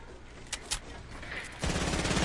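Fortnite gunfire: a couple of faint distant shots early, then a sustained loud burst of rapid automatic fire close by toward the end.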